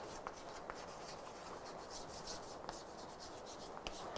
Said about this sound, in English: So, I can write